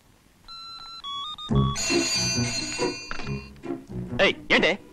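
A telephone rings in a Telugu film scene with a brief electronic pattern of stepped high tones, followed by louder thumps and busy scene sounds.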